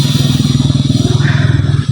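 A new motorcycle, a birthday gift picked up from the showroom, idles with a steady rhythmic engine chug close by, loud and continuous with faint clatter and no clear talk.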